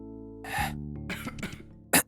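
Several short, raspy coughs from a video game character in close succession, a throaty bark followed by a couple more harsh bursts, with quiet musical tones underneath.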